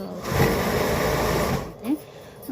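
A sewing machine stitching a blouse runs in a steady, close whirring burst for nearly two seconds, then stops as a voice speaks briefly.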